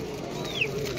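A pigeon at a street pigeon market in Galif Street, West Bengal, gives a brief soft call over steady crowd and market noise, fairly faint against the background.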